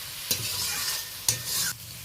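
Potatoes, tomato, onion and green chilli frying with salt in a pan sizzle steadily, broken by two sharp scraping stirs of a spatula, close and fairly loud with no talking.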